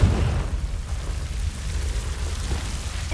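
Confringo explosion spell in Hogwarts Legacy, a deep rumbling burst that fills the whole moment with heavy low-end roar and a steady boom, without any voices.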